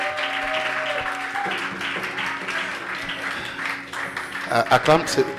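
A congregation at a Sunday church service applauds and cheers in a steady wash of clapping, with a voice speaking over it and a louder burst of claps near the end.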